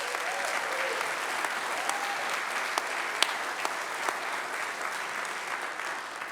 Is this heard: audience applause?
yes